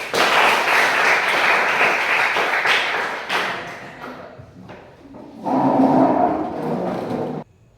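Schoolchildren in a classroom break into loud, dense applause that runs for a few seconds, thins out, then surges again in a second short burst before cutting off.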